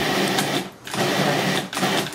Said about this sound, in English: right now we're going to put our tomatoes in and give it